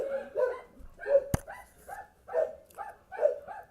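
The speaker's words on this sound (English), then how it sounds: "Dogs are freaking out." Dogs barking in quick, repeated bursts, about eight sharp barks spread evenly, fairly close and loud, with one brief sharp crack in the middle.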